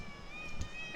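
One of a pair of hungry shed cats gives a short meow, fairly close, alongside a person's voice and some background noise.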